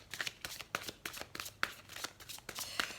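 Oracle cards of a heart-chakra deck shuffled by hand for a love reading, a soft papery riffle in quick irregular bursts, close and fairly quiet, with no talking.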